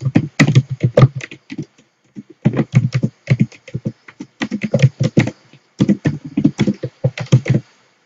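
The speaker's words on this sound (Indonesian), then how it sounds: "Kemudian kita ketikkan pertanyaannya." Someone types a quiz question on a computer keyboard, with quick close bursts of clicking keys separated by short pauses, and nobody speaks.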